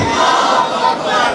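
A large crowd at a religious speech gathering loudly chants in response to the Takbir slogan, forming a dense, sustained roar of many voices.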